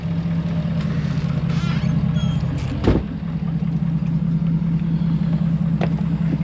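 Ford 6.7 Powerstroke diesel pickup truck driving, a steady low engine drone with road noise running throughout and one brief sharp knock midway, no talking.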